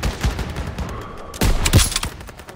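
Rifle and machine-gun fire in the World War II shooter Call of Duty WW2, a loud, close fusillade of sharp cracks and rattling bursts over a constant battle din.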